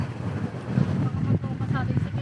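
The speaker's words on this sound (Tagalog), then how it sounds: "Lakas ng hangin." Strong wind buffets the microphone with a steady low rumble and gusty roar, while a voice speaks faintly underneath.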